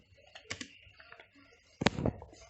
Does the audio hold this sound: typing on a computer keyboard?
yes